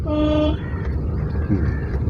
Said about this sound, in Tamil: முன்னாடி ஹார்ன் அடிங்க, தள்ளி வச்சு ஹார்ன் அடிங்க